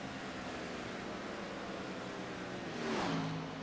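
A NASCAR stock car at the Bass Pro Shops MBNA 500 slowing toward pit road, a broad steady roar with a descending engine tone and a brief louder swell near the end, no talk.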